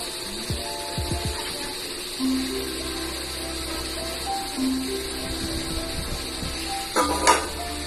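Egg batter cooks in melted butter in a pan with a steady, close sizzle, light scraping or stirring, and a brief clatter of cookware near the end.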